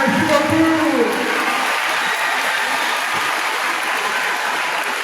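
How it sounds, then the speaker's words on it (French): A parish church congregation applauds its new priest at a back-to-school Mass, a broad steady roar of many hands clapping that holds evenly throughout, with a voice briefly audible near the start. "on applaudit pour lui"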